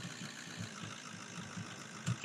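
A fire engine idles in Roblox First Response, its low engine faint and steady with soft rhythmic thumps and a slightly louder knock near the end. No voices are heard.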